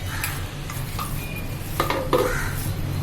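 Ground lentil batter for paruppu urundai is mixed by hand in a bowl, giving soft wet squelches and a few light clinks over a steady low kitchen hum, close and moderately loud, with no talking.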